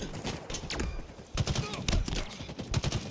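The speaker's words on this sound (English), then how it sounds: "I'm getting sniped when I'm spawning." Sniper and other gunfire in a Halo custom map, a run of sharp, loud in-game shots in bursts, with game noise around them.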